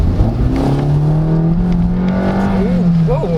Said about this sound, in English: 30 kilometers per hour, then floor it.